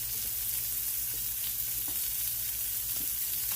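Onions fry in cooking oil on a grill with a constant crackling sizzle and occasional light stirring taps, close and steady over a low hum, without any voices.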